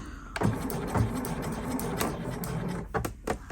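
A sewing machine runs in short bursts while reverse stitching a patch pocket, its motor whirring close with brief pauses and a few sharp clicks between runs.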